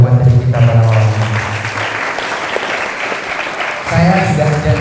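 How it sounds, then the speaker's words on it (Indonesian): Audience applause at a public speaking seminar at a pesantren, a dense clatter of many hands filling the middle of the clip, with a voice speaking before and after it. "Berikan tepuk tangan terlebih dahulu pada materi kita pada malam ini."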